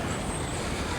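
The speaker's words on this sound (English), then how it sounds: "I don't know if you can hear a little bit of the dull traffic behind me" Low, steady city traffic noise on Broadway in New York City, a continuous dull roadway rumble with no distinct passes, heard at a distance throughout.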